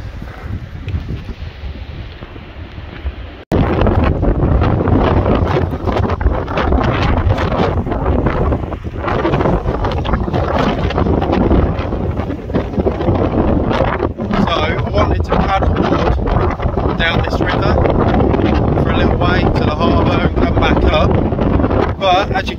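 Strong wind buffeting the microphone on top of a castle in Cornwall, a loud continuous roaring rumble that swells and gusts throughout, with a voice faintly speaking under it.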